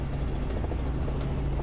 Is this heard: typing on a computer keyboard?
no